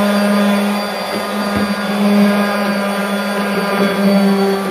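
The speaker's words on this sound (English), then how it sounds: "I'm going to turn my sander on. It's going to get loud, and I'm going to just ride this a little bit with my sander." Electric sander running steadily against a painted wooden dresser while distressing its finish, a loud continuous motor whine with a low hum and slight shifts in pitch as the tool rides across the surface.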